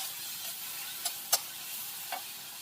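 Garlic and mushrooms stir-fried in a pan, with a soft steady sizzle beneath a few sharp scraping clicks of a utensil against the pan, fairly quiet and without speech.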